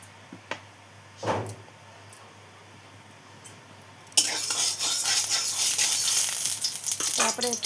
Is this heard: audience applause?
no